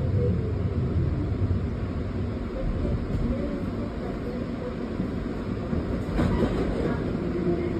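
A Lynx light rail train rumbles steadily along the track, a continuous low mechanical roll with faint clatter from inside the car.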